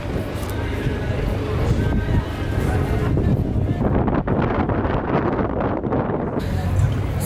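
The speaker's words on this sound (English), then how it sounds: "It's really chilly, guys. Really windy as well." Strong, chilly wind in Edinburgh buffets the microphone with a continuous low roar and rumbling gusts near a Christmas market queue, with faint indistinct voices in the background.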